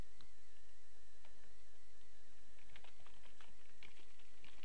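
Keys clatter on a computer keyboard at a moderate pace in irregular bursts, close and fairly quiet, while a user types a reason into an account deletion form, with no voices present.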